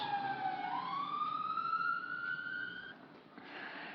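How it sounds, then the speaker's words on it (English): A fire engine siren sweeps past, its wailing tone rising and holding loud, then cutting off as the vehicle moves away over street noise. "fire engine coming past"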